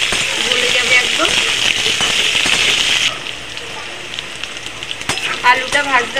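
Potatoes frying and being stirred in hot oil in a pan, a steady loud sizzle for about three seconds that then drops quieter, with scraping and stirring clatter near the end.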